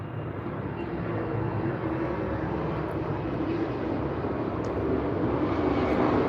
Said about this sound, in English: plane passing by